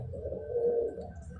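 A pigeon coos once, a soft low rolling call close by and faint, alone without talk.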